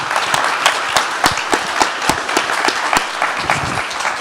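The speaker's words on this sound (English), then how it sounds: "a round of applause, please, for this round of debaters" An audience at a panel discussion on nature markets claps for the debaters, a moderate round of scattered, distinct hand claps that stays steady for several seconds.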